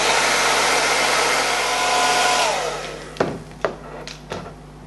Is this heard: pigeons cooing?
no